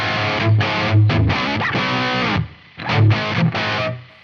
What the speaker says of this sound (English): I'll bring that reverb in.